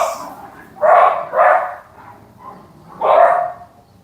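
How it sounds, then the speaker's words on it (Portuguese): A few sharp barks from female dogs ring out close by, two in quick succession, then a softer one and a final loud bark, with quiet between. "Cachorras."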